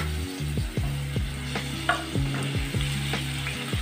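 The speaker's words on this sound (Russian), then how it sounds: "Разогретое масло выкладываю репчатый лук." Chopped onion sizzles in heated oil in a pan for a vegetable and meatball soup, with a steady frying hiss and repeated knocks and scrapes of stirring. No one speaks.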